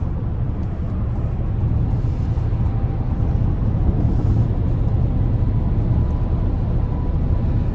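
Steady low road rumble and tire roar from 24-inch wheels on a 2025 GMC Yukon XL Denali Ultimate, heard from inside the cabin while driving, constant and even with no talk.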